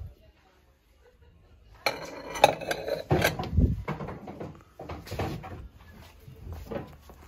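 Little pasta bowls and other dishes handled on thrift store shelves: a run of close clinks, knocks and clattering ceramic with short pauses between.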